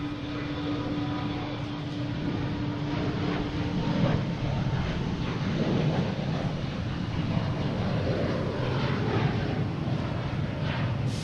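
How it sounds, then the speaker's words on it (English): American Airlines Embraer E175 regional jet taking off at Boston Logan, a steady broadband engine roar of moderate loudness that holds evenly throughout with a faint tonal whine early on. "American Airlines taking off, heading to Buffalo."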